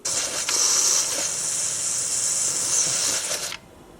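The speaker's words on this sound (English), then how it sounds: "you can see there's still a little bit of steam escaping, but it shouldn't be making that hissing sound anymore" Steam hisses steadily and loudly from the pressure valve of an Instant Pot Gourmet 6-quart pressure cooker, a constant high rush that cuts off abruptly near the end.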